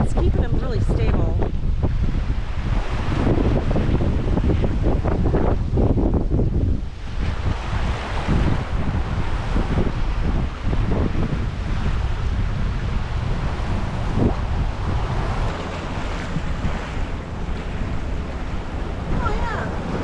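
Strong wind buffets the microphone in steady gusts over open water in Door County, with waves sloshing and a small sailboat moving through the chop; voices occasionally break through.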